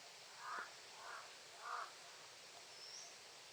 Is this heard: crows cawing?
yes